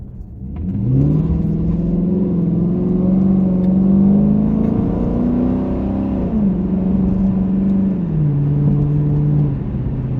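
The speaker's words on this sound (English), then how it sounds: "Burn a little rubber." A Diablo muscle car engine revs up and holds a loud, steady roar as it accelerates, burning rubber, pitch climbing then dropping back, close and continuous for several seconds.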